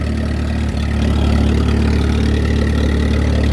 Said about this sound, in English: this is a plow tractor, and it's got a 3-point hitch and all hydraulics and everything